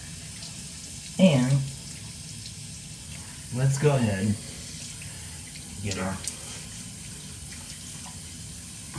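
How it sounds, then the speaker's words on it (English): Tap water running into a bowl for shaving lather, heard in three short bursts with pauses between them while someone talks briefly. "get some water here in this bowl"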